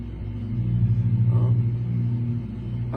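A car engine with transmission problems idles after restarting, a steady low rumble that swells slightly and holds, close by, with faint clunks over it.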